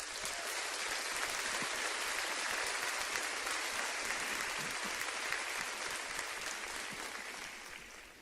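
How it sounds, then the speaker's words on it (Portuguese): A church congregation claps in sustained, dense applause that holds steady for several seconds before tapering off at the end. "Você pode aplaudir a Jesus."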